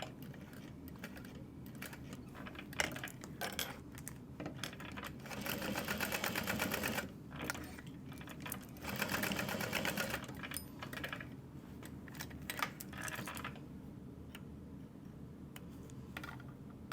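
A sewing machine runs box stitches across webbing on a tote bag exterior, a steady close whirring that comes in several bursts with brief pauses and no talking.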